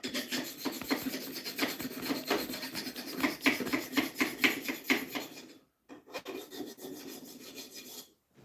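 A hand file removes a burr with quick, repeated rasping strokes, close and loud, then a short pause and a few more strokes.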